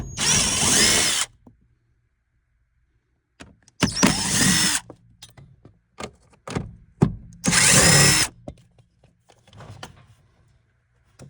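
A power drill works screws out of the dash of a third-generation Camaro, three loud whirring runs of about a second each with quiet clicks and handling noises between them.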